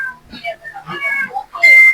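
A cat meows a few times, close by, with voices talking around it and a sharp high tone near the end.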